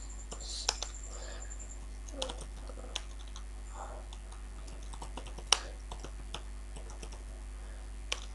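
Typing on a computer keyboard while working in MS Word, with sparse, irregular key clicks and a few sharper taps, quiet and close over a low steady hum.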